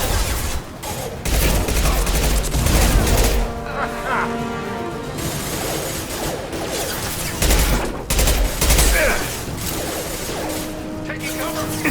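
Bursts of gunfire from Blue Suns mercenaries and Vorcha in a Mass Effect 2 firefight, with loud rapid volleys, booms and mechanical clatter filling the scene and a voice heard briefly among the shooting.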